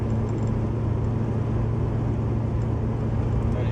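A 1974 Chevy Nova's engine drones steadily while driving, a continuous low rumble with a strong, even hum that holds constant through the whole stretch without any talk.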